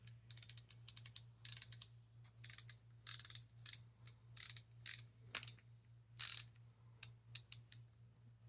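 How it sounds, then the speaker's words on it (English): The ratcheting pawls inside a transparent LTT screwdriver rattle in quick, faint bursts of clicks, like a ratchet being shaken. The bursts repeat irregularly over a steady low hum. "You can see the pawls, the ratcheting pawls shaking in there."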